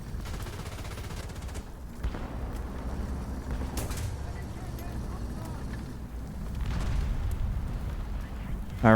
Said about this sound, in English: And I am still being shot at from many angles.